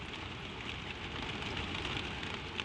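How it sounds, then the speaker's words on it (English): Gentle rain falls steadily on a shed roof at night, a soft continuous hiss with faint scattered droplet ticks, even and unbroken throughout with no voices. "The rain whispers down."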